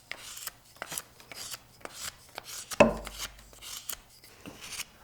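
A knife shaves a wooden bow drill spindle with a slight rotating motion, giving close, crisp scraping strokes in an irregular rhythm, with one louder knock partway through.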